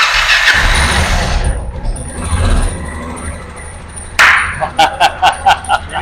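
A motorcycle engine being started for the first time after a build, heard as a loud cranking roar that drops off, then a sharp catch and a series of rhythmic bursts as it fires up, with no talk over it.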